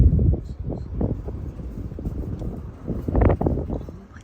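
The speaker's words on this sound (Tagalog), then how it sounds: "Guys, pakinggan nyo kung gaano kalakas yung hangin." Strong wind blowing outside a house in America, heavy low rumbling gusts buffeting the microphone in uneven surges, loud and close throughout, with no voices.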